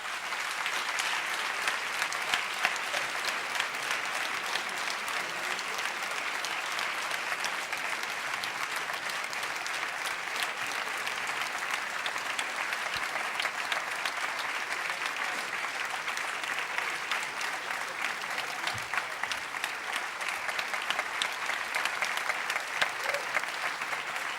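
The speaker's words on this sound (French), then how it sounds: "je vais vous demander de l'accueillir sous vos applaudissements" An audience applauds steadily for a pianist-composer walking onto the stage at an evening improvisation concert, with dense, even clapping that continues at a constant level throughout and has no voices over it.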